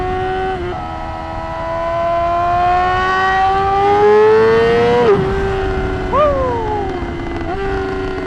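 A 2026 Yamaha R7 motorcycle with electronic drive-by-wire throttle revs hard and close, its engine note climbing steadily, dropping, then snapping back up in a second shorter rev before settling.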